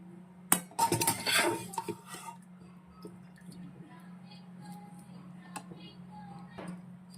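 Boiled drumsticks dropped into a pot of kadhi, heard as a cluster of quick clinks, clatters and soft splashes early on, followed by faint scattered taps over a steady low hum.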